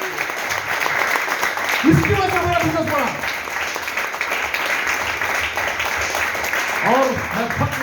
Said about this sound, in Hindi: इसलिए इन सारे स्टाफ के लिए मैनेजमेंट का जोरदार तालियां